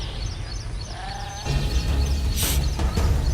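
A goat bleats once, a thin wavering cry up close in an animated Hindi story about a poor shepherd, followed by a short burst of rustling noise.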